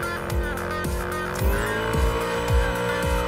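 Car drifting in the Hot Wheels Unleashed video game: a sustained tire squeal glides in pitch over engine noise, punctuated by repeated rhythmic thuds and impacts, all loud and close.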